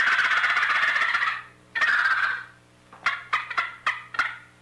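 Hand-held squirrel call shaken to imitate a grown squirrel's distress sound: two long raspy chatters, then a quick string of short, sharp barks, close and loud with no talk.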